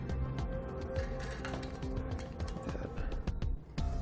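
A nut being reinstalled and tightened onto the inlet valve of a Firestone Ride-Rite rear air helper spring on a 2011 Ford, heard as close, rapid ratchet clicks and small metallic mechanism sounds.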